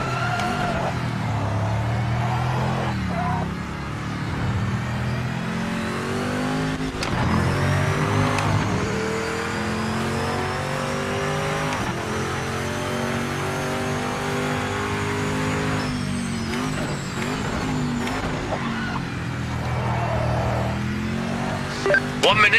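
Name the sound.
race car engine in video game Project Motor Racing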